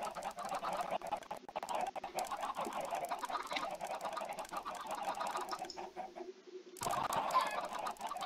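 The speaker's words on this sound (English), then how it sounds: "Oh no, my chicken farm." Chickens cluck and squawk steadily on a video game chicken farm, a dense layered flock noise that fills the whole stretch, dips briefly and then returns louder.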